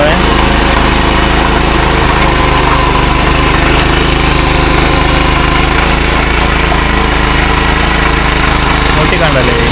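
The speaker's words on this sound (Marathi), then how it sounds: "मशीनने चिखल चालू आहे." Steady, loud drone of a power tiller engine working wet mud in a paddy field, unbroken from start to finish, with people talking above the machine noise.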